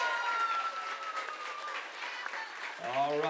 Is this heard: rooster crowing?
no